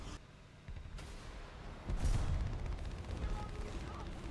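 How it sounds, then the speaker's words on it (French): Artillery barrage in a war video game: dull booming impacts and crackling gunfire rumble under a steady game din, swelling into a heavier, louder burst about halfway through. "Non, pas le barrage d'artillerie."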